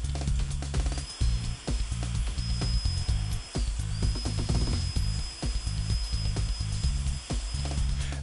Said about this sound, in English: use a 2-inch medium grade 80 grit sanding disc and sand until all rust is removed.